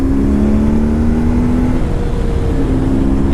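A 2004 BMW R1150GS Adventure motorcycle engine runs loud and steady while riding, a continuous close drone with a slight shift in pitch midway and no pauses.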